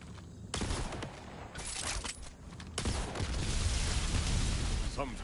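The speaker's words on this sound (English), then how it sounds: "shoot the bomb" Gunfire and a bomb blast in the video game Borderlands 4: a sudden loud burst of shots and explosion noise, then sustained dense rumbling action sounds, with a voice briefly in the mix.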